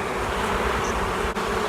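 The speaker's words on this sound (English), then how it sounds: "We're gonna knock some bees off another frame in here" Honeybees knocked off a hive frame while a beehive is being split, a dense steady buzz close to the microphone that holds at an even level without a break.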